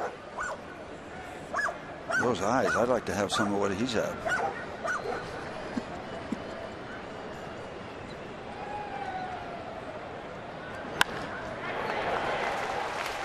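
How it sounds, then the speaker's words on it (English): A nervous dog at a baseball game whimpers, yips and barks in a burst of high, wavering cries, while a commentator talks over the crowd ambience. "I think that dog's a little nervous."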